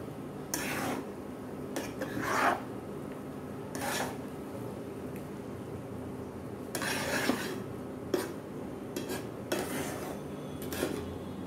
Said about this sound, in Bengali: এরপর একটু নেড়ে নিব